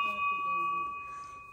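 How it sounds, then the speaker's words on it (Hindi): A single bright bell tone rings and sustains with a long steady ring, close and clear, fading slightly toward the end. "बजा, घंटी बजा"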